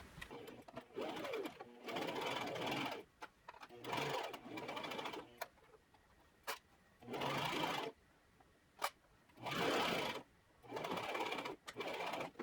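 A sewing machine stitches a cotton pencil dress in repeated short bursts of about a second each, separated by quiet gaps and a few sharp clicks, fairly close and moderately soft.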